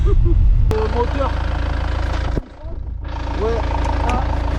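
A car engine idles steadily at close range with a low, even hum, while voices speak over it; the engine note briefly drops out near the middle before resuming.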